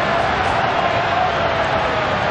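Stadium crowd behind the goal at a Real Madrid vs Manchester United match lets out a sustained, steady collective groan of disappointment after a missed chance, a dense wash of many voices with no single speaker standing out.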